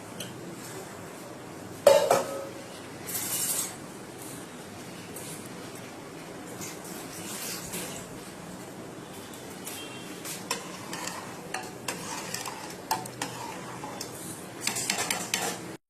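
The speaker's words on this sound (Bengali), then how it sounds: "এখন একবার নেড়ে দিতে হবে, প্রথম দিলাম চালটা তো, নাহলে নিচে দলা পেকে যাবে।" Rice for biryani is stirred in a cooking pot with occasional clanks of a utensil against the metal and a faint sizzle, mostly quiet with a sharper knock near the start.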